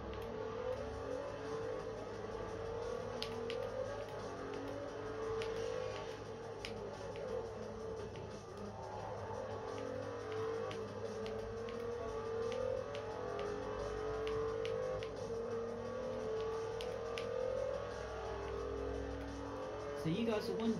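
Car driving in Forza Motorsport 4 on the Xbox 360, likely an Audi, with a sustained engine drone and shifting pitch running steadily throughout, plus faint clicks over it.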